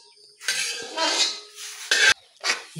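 Pancit bihon and pancit canton noodles being stirred and tossed in a pan, with several separate bursts of utensil scraping and clinking against metal, close and fairly loud with short pauses between.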